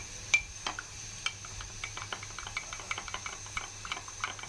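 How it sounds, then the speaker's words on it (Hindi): A spoon stirs custard mix into milk in an open pot, giving soft, faint, irregular clinks and scrapes against a quiet background. "अच्छी तरह हमने इसको मिक्स करना है कस्टर्ड को।"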